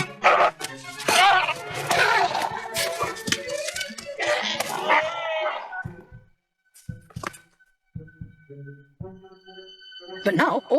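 Sea lions bark and bellow in a close, loud cluster of overlapping calls, then sporadic grunts and short honks with gaps of quiet, ending in another burst of calling.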